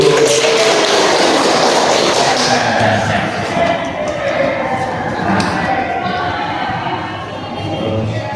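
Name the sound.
class clapping hands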